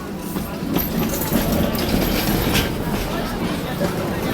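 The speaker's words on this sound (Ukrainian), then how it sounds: "Ось львівський трамвайчик проїжджає поряд" A Lviv tram rumbles past nearby with steady rolling rail noise and faint clattering, surrounded by busy street ambience.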